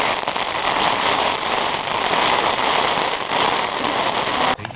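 Loud hail hammers down in a mountain storm, a thick, unbroken roar of close impacts that holds steady for several seconds and breaks off abruptly near the end.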